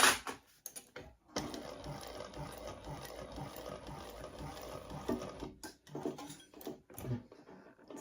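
A sewing machine runs in a steady, continuous burst as it stitches a laptop bag, stopping briefly and then starting again in shorter runs, fairly close and with no talking over it.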